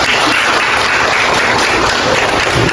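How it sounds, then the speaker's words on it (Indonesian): Loud, steady clapping from a classroom audience fills the clip as a dense, continuous patter of many hands with no talk over it. "tepuk tangan buat yang udah jawab"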